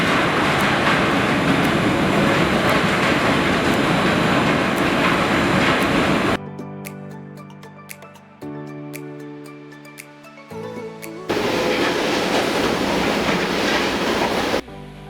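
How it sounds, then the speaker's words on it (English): A trolley train runs back and forth in a TBM construction tunnel: loud rumbling rail noise for about six seconds, then quieter passages with steady mechanical tones and clicks, before the heavy rumble returns near the end. "This trolley train runs back and forth in the tunnel for workforce shifting and carrying the materials for operation and maintenance of TBM."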